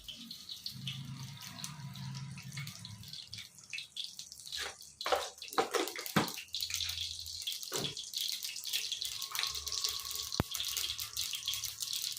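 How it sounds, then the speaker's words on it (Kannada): Mustard seeds crackle and spit in hot oil in a pan while cooking a drumstick fry, giving a continuous close sizzle with scattered sharper pops. "ಅದಕ್ಕೋಸ್ಕರ ಈಗ ಸಾಸಿವೆ ಹಾಕೊಂತ ಇದೀನಿ ನೋಡಿ"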